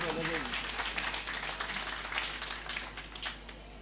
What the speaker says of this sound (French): C'est l'occasion pour moi d'exprimer ma profonde gratitude à M. Maodo Fall, que je vous demande d'applaudir.